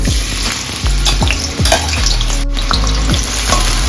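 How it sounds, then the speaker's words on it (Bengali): Potatoes frying in mustard oil and white oil in a wok, a loud continuous sizzle broken by repeated rhythmic scrapes and stirs of a spatula, with no voices. "এবার আলুগুলোকে ভেজে নেব।"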